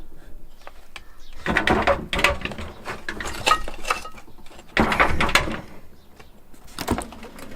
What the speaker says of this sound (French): Il reste plein de casseroles et tout.